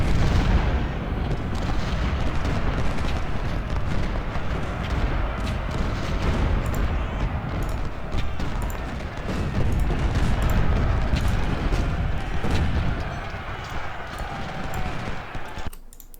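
Cannon artillery in Ultimate General: Civil War, at the Chancellorsville and Salem Church battle, rumbles in a constant, heavy barrage of overlapping booms and rattling fire that stays loud before cutting off at the end.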